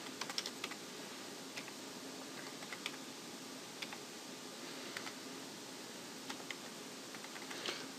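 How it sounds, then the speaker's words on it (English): Fingers typing an IP address on a computer keyboard, a soft, steady run of small clicks and taps at close range with occasional sharper keystrokes and no talking. "Type up this IP address."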